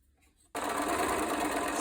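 A sewing machine stitches along the short edge of a doll's school dress piece, starting abruptly after a brief quiet moment and then running steadily and loudly without pause.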